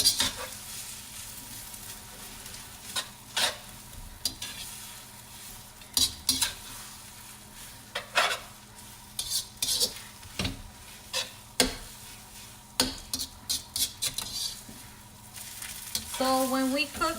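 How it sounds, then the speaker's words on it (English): Pho noodles stir-fried in a wok: a low, constant sizzle runs under sharp, irregular scrapes and clinks of a utensil against the metal pan, with the strokes coming more often near the end. "Make sure you stir it."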